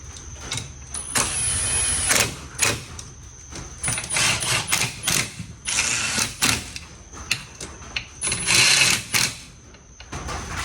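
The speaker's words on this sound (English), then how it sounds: "I got my little torque wrench here" A torque wrench tightens bolts on a budget AWD Honda Civic after RTV sealant is applied, making close, repeated ratcheting bursts in quick irregular runs with brief pauses between.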